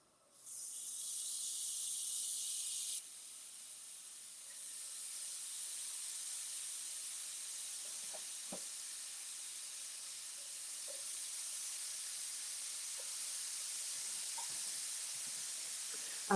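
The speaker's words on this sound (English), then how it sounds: "let's go ahead and lay them on the hot griddle" Apple slices laid on a hot griddle give off a soft, steady hiss of sizzling that fades slightly after the first few seconds, with faint pops and crackles scattered through a long, quiet stretch.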